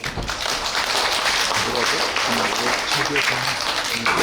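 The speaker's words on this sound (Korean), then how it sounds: "다시 한번 박수." Lecture audience at a Korean Aerospace Day special talk applauds a student's correct answer, a dense, steady round of clapping that fills the whole clip with some murmuring voices beneath.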